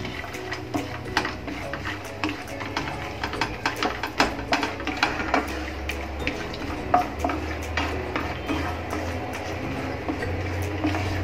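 Godambi seeds (bhilawa seeds) are roasted in a spoonful of ghee and stirred briskly, giving a close, busy run of rattling scrapes and clicks over a soft frying sizzle, with no voices.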